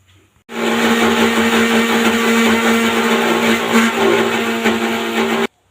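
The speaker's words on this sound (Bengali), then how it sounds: "পেঁয়াজ, আদা, 2 চামচ গোটা জিরে, 2 চামচ সর্ষে, সব একসাথে পেস্ট করে নিয়েছি" A blender grinds onion, ginger, whole cumin and mustard seeds into a spice paste, a steady loud whirring motor hum that starts abruptly, runs about five seconds without letup, then cuts off.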